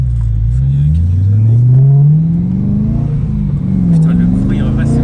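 A BMW M3 E92 engine revs hard while drifting, its loud, close roar sweeping up and down in pitch through repeated throttle blips and sustained pulls.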